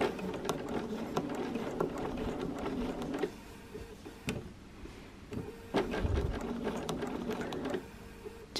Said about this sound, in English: And then the final stitches.